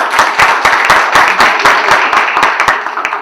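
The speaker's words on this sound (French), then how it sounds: "Des applaudissements, si vous voulez" Lively crowd applause with dense, rapid clapping that stays loud and steady for a few seconds before thinning slightly.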